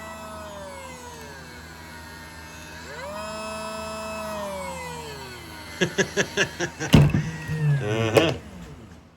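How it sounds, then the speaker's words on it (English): A faulty pump runs on a beach gold-recovery setup on the Lake Superior shore: a droning whine that slides up and down in pitch, then turns to rapid, uneven knocking and sputtering bursts near the end. "Definitely something wrong with this pump."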